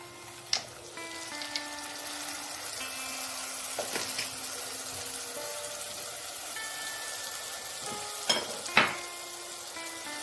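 Tomato puree hisses and sizzles as it is added to whole spices and cumin frying in a pan, with a steady bright crackle, occasional clinks and scrapes of stirring, and a faint tonal sound in the background; no one speaks.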